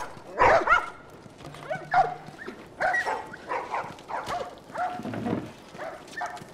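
Several dogs in The Last of Us bark and yip in short, irregular bursts, fairly close, with a brief whimper-like tone partway through.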